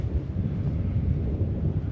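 Outdoors in a storm, a low continuous rumble of thunder rolls under strong wind buffeting, loud and steady throughout with no voices.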